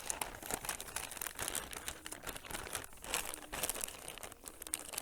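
Plastic bag holding a Ukrainian armed forces ration meal and flameless heater crinkles and crumples in close, irregular bursts, fairly quiet and with no voices over it.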